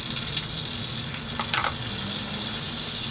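Butter and olive oil fry in a frying pan for eggs, a steady close sizzle with a brief bubbling spatter midway.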